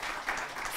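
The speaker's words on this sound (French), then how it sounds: "Merci de l'applaudir." Brief, soft applause from an audience at a logistics debate in Cannes as a guest arrives on stage, a short, even patter of clapping with no voices.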